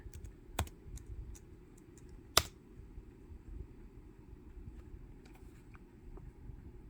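Quiet one-handed typing on a laptop computer keyboard, sparse irregular clicks and taps with one sharper keystroke, heard close against a faint background hum.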